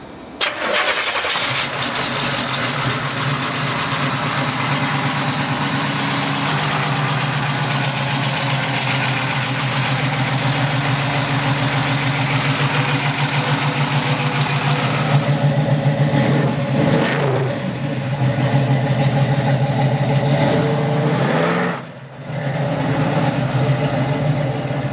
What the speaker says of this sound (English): Let's take this Nova for a ride. It's running awesome. It's got all kind of power.